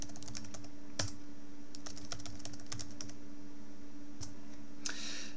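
A password being typed on a computer keyboard during a software install on Ubuntu, with irregular close key clicks in quick runs and short pauses, a few sharper taps, over a low steady hum.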